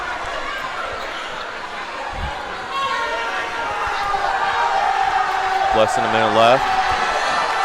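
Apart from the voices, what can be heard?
crowd cheering at a high school basketball game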